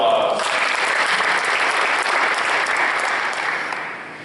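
Applause at a football awards ceremony for a player receiving an award: a full, sustained round of clapping from the crowd that holds steady and tapers slightly at the end.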